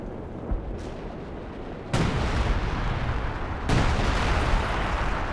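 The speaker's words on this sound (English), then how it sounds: "there's artillery from the Major" Artillery barrage in a Company of Heroes 2 4v4 match on Lienne Forest, with two heavy booming impacts landing a couple of seconds apart over a continuous rumbling battlefield din.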